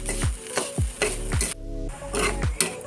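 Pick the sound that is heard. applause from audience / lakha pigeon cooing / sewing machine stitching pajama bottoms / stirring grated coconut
stirring grated coconut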